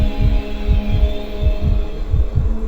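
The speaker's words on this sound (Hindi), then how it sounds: "मेरी धड़कन और तेज बढ़ गई।" A heavy, slow heartbeat sound effect for a horror story, made of steady paired low thumps about twice a second over a constant droning hum, loud and alone.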